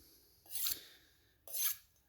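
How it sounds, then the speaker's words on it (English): A knife edge is drawn across the unglazed bottom of a ceramic coffee mug for touch-ups, two brief, soft scraping strokes about a second apart, quiet and close with no talk. "you can actually take the bottom of your coffee mug and use it like you would a stone or a ceramic rod and do touch-ups that way"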